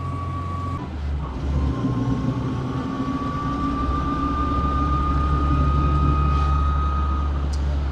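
A Lada Niva engine held in third gear at about 3,000 rpm, a loud, steady droning roar with a sustained whine riding on top for the whole stretch.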